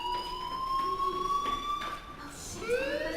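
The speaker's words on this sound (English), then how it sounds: "Hey, do you hear that fire alarm?" A fire alarm rings in the video game Life is Strange, a sustained electronic alarm tone that holds steadily, then shifts pitch near the end, filling the scene with no talk over it.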